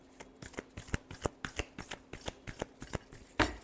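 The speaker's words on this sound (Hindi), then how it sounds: "Last shuffle." Tarot cards shuffled by hand, a quick run of crisp riffling flicks and taps, close and fairly quiet, ending in a louder snap as the deck is squared.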